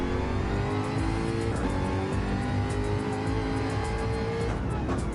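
Race car engine from a GT3 racing video game revving and wailing loudly through a drifting run at Watkins Glen, with tire squeal layered over a steady, continuous engine drone.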